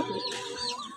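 Rooster offered for sale, clucking close by in a brief burst of soft throaty calls, with no talk over it.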